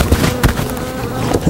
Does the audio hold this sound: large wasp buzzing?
yes